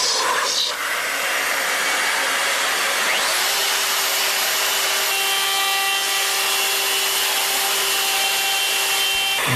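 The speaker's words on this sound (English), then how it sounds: "When the collar finally slides against the mortise window, the excavation will take shape." A hand-held wood router cuts a blind mortise in wood through a collar template: a loud, steady high-pitched motor whine that rises sharply after a brief start and holds unbroken, with cutting noise up close.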